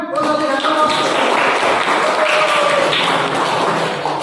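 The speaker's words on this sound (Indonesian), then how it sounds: "Oke, tepuk tangan." A high school economics class claps together, loud and dense, with some voices calling out over the applause.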